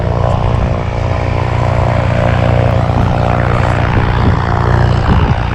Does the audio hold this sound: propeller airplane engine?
yes